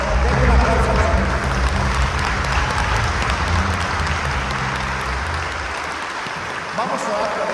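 A church congregation claps for the Lord during a Spanish-language service, a loud sustained round of applause with a low hum and some crowd noise beneath, tapering slightly near the end.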